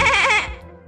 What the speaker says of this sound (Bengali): ওই তো শুনলুম ছাগলের ডাক।